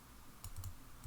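A few soft keystrokes on a computer keyboard, close and quiet, clustered in the middle of a short moment with no talking.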